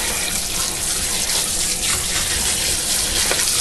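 Cold running water from a kitchen sink sprayer rinses salted pickling cucumbers, a steady close hiss and splash that holds level throughout with no pauses.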